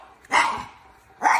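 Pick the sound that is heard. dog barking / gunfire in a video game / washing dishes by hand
dog barking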